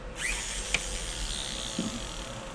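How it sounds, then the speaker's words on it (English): A small foot-pedal flexible-shaft rotary drill whines at high speed with a steady, continuous tone, close by, with a faint click partway through. "I can drill really small holes with this."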